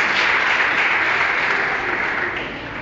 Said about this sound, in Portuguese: Aplauda o nosso Deus em nome de Jesus.